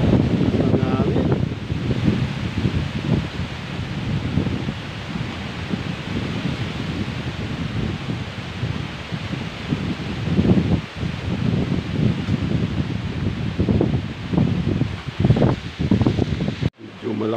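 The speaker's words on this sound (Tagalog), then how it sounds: "Medyo malakas po ang hangin sa ngayon" Strong wind gusting across an open grassy area in daylight, a loud continuous rush with rustling leaves and buffeting on the microphone, while someone talks intermittently over it.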